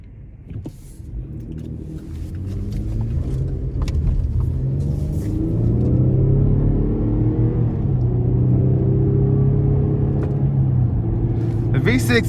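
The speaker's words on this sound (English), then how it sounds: "So next thing we're gonna do is take this GMC Canyon on a test drive." A 2020 GMC Canyon SLE Elevation Edition 2WD pickup with a V6 drives on a test drive, its low, steady engine and road rumble building and holding loud throughout as someone talks over it.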